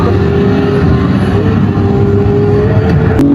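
An R35 car's engine runs loud and steady at close range as a child works the clutch, a continuous throaty drone with slight rises in revs and no talking.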